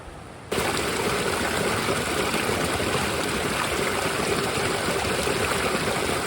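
Sheep Creek in Yellowstone National Park rushes past close by, a steady, full, hissing flow of water that starts abruptly after a brief quiet moment and continues unbroken.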